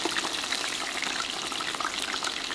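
Steady crackling sizzle of chicken deep frying in hot oil at 325 degrees, dense and continuous with small pops, close by and alone.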